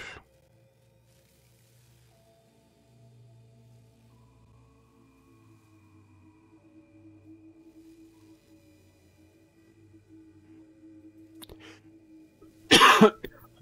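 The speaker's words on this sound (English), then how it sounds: "I do apologize for the coughing." A single burst of coughing near the end, loud and close, after a long stretch of faint low hum and quiet.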